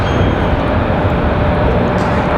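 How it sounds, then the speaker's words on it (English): A JetBlue airliner touches down at Raleigh-Durham airport, its loud, dense engine roar filling the scene as a steady, close rumble with no voices. "Nice touchdown for JetBlue"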